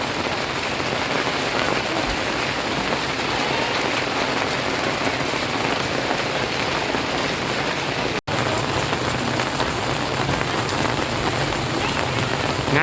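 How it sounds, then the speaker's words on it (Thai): Heavy rain pours steadily at an outdoor evening market in Thailand or Laos, a dense loud continuous hiss of drops pattering on surfaces with a brief cut near the end, no clear talk. "ฝนมาแล้ว"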